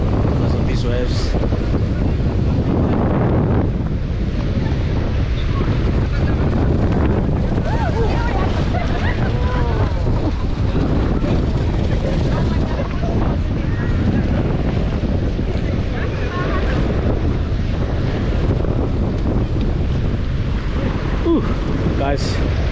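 Ocean waves wash steadily onto a Durban beach under strong wind that buffets the microphone, a constant roaring surf with swells rising and falling, with brief talking mixed in.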